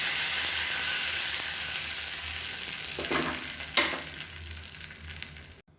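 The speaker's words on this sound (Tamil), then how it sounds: "எப்பயும் போல் கடுகு கருவேப்பிலை போட்டு தாளிச்சுக்கலாம்" Mustard seeds and curry leaves sizzling in hot oil while tempering an onion chutney, a loud continuous frying hiss with a couple of sharper crackles near the end before it cuts off.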